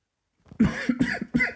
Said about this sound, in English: Excuse me while I need to cough.